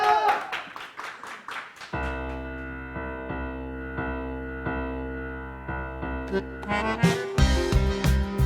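A studio audience on the Spanish television show El intermedio claps in a short, loud burst of applause for a few seconds, then gives way to sustained music that fills the rest.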